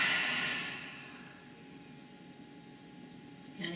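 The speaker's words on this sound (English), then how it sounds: "Deep breathing." Slow, deep breathing during a gentle stretching exercise, one long airy exhale fading over a few seconds, followed by a quieter hiss and the start of a fresh breath close by.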